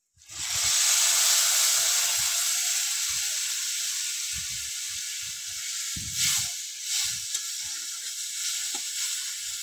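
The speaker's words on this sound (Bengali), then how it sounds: "জলটোবাগুলো এই মশলার মধ্যে ঢেলে দেবো।" Prawn jhol toba dumplings are poured into a pan of well-fried spice paste, setting off a loud, steady hiss and sizzle that eases slightly and carries occasional bubbling and stirring knocks.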